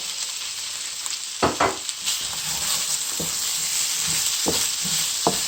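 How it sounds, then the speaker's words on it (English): Beef and pepper frying together in a pan for peppered beef skewers, a steady close sizzle broken by several sharp scraping stirs, with no talking. "allow the pepper to fry more before I go in with the beef"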